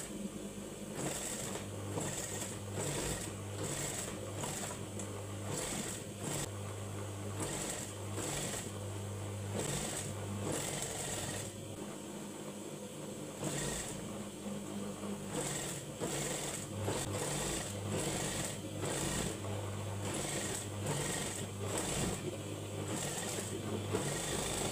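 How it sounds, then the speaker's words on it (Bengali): An electric sewing machine stitches the neckband of a dress, running loud and close with a steady whirring drone and rapid rhythmic needle chatter, pausing briefly midway before continuing. "দেখুন এই পাশে উল্টো সাইড থেকে আমি এইভাবে সেলাই করব।"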